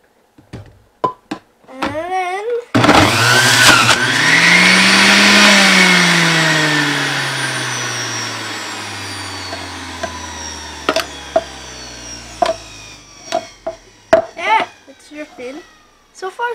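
An electric juicer whirs loudly as an orange is pressed into it, its motor spinning up with a grinding roar before winding down slowly; sharp knocks and clatter come before and after, with no talk over it.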